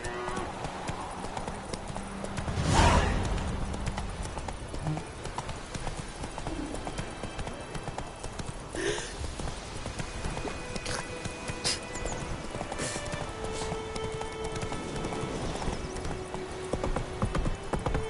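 Horse hooves clip-clop steadily in the video game The Witcher 3, a quick rhythmic trot that runs through the whole stretch. A short whinny sounds near the start, and scattered game sounds and faint voices overlay it.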